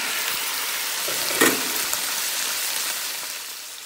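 Oil sizzles steadily in a pan where ginger and turmeric fry before pork is added, a dense continuous crackle with a brief louder spatter midway and no talking.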